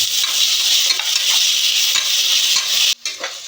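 Ginger garlic paste is stirred in a pan for vegetable biryani, a steady close sizzle with the scrape of a spoon running through it, ending in a brief pause and a few more strokes.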